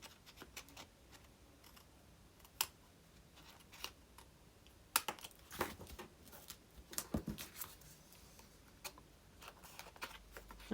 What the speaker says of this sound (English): And then you need to snip them off.